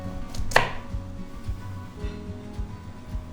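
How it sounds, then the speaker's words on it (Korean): A knife slices radish thinly for mild cod fish soup, with a sharp close knock near the start followed by softer, irregular cutting taps on a board. "나박나박 썰어 볼게요."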